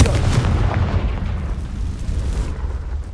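A Confringo spell blast in the game Hogwarts Legacy, a loud booming explosion that hits at once and then rumbles away over a few seconds.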